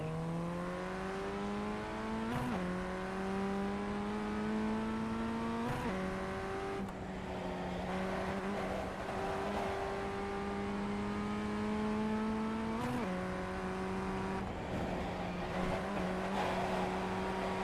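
A race car engine in the sim-racing game iRacing runs continuously at high revs, loud and close, with repeated sharp gear shifts and drops in pitch as the driver lifts off the throttle through corners.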